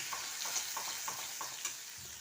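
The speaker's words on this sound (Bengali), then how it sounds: "যে পেস্টটা এখন ভালো করে পেস্ট করে নিলাম, ওইটা অল্প আঁচে দিয়ে দিলাম।" Spice paste with dried red chillies frying in oil over low heat for a broccoli curry, a soft steady sizzle broken by regular scraping stirs of a spoon, quiet and close.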